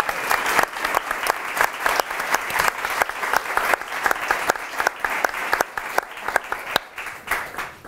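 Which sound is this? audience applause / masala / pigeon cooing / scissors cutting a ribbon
audience applause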